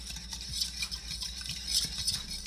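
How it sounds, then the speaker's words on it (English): A chicken marinade of lemon juice and salt is stirred in a bowl, giving soft, quiet clinks and rattles of utensil against dish in an irregular rhythm. "Gotta mix this up."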